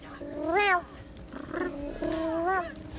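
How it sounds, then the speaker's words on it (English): A pet cat meows three times indoors, drawn-out rising and falling cries at close range with a quiet room behind them. "she only properly meows, or I say meow because that's what it sounds like"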